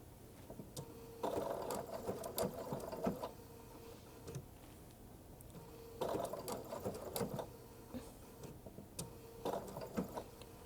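A sewing machine stitches wool appliqué onto background fabric in quiet, rapid mechanical bursts. Each burst lasts a couple of seconds and is separated by pauses, with faint ticks in between.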